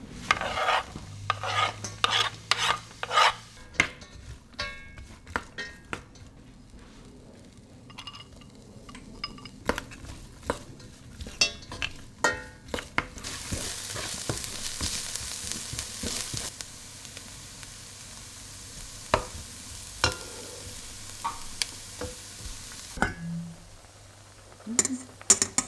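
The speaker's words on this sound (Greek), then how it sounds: "Θα τσιγαρίσω τώρα το κρεμμύδι και το πράσο, αλλά στο πολύ χαμηλό για περίπου 20 λεπτά" Onion and leek gently sautéing on very low heat in a pan, a quiet steady sizzle broken by frequent scraping and stirring clicks from a utensil, close up, with a brief stretch of louder hiss midway.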